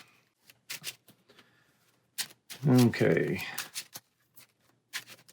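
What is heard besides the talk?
shuffling cards for Marvel Champions card game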